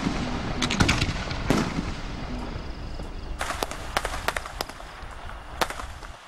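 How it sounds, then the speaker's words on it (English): Fireworks at a riverside test firing, with comets and bombs being ignited: a rapid series of sharp cracks and pops, some loud near bursts and a dense crackling cluster, over a rumbling outdoor background. "he ignites comets and the desired bombs with new colour combinations"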